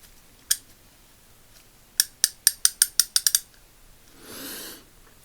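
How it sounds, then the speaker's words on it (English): Craftsman 99964 3/8-inch drive ratchet clicking as it ratchets: one isolated click, then a quick run of about eight crisp metallic ticks close up, followed by a soft rushing noise, in a quiet room without speech. "That's how it looks when it's ratcheting."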